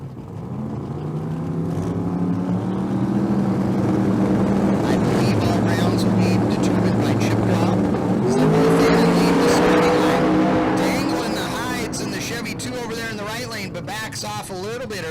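Chevrolet Camaro launching down a drag strip at a Las Vegas street car race, a loud sustained engine roar rising as it accelerates, with other engines and an announcer's voice underneath.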